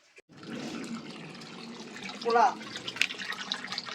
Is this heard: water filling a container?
yes